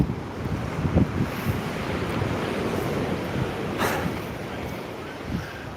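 Sea waves washing in with the incoming tide on a windy shore, a continuous rushing surf with a few sharper splashes, steady and fairly close, with wind buffeting the microphone and no clear speech.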